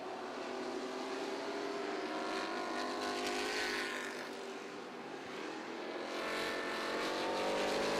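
Limited stock cars roar around a short track during a Collision One feature race, a steady distant engine drone rising and falling as the pack passes, with a swell of revving as cars close side by side.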